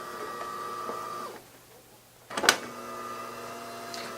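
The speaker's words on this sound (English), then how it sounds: "So it automatically will rinse the brew group and the brew head when it turns on" A DeLonghi GranDama 6700 superautomatic espresso machine powering on and rinsing its brew group: a steady mechanical whir, a brief pause, then a loud gurgling spurt of water and the motor hum resuming, close and without speech.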